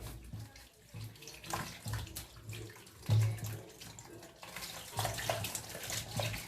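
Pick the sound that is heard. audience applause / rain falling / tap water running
tap water running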